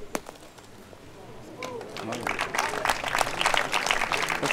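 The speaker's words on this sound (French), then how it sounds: "Les spectateurs près du terrain ont applaudi tout de suite" Spectators clapping at the final of an international pétanque triplette match outdoors, applause swelling from sparse claps into a dense, steady burst that grows louder toward the end, with voices mixed in.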